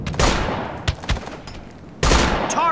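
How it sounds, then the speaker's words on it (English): Sharp rifle shots crack out in the military shooter Operation Flashpoint: Dragon Rising, a couple of loud close bursts with brief gaps between, and a final report near the end ringing with echo. "Shots fired."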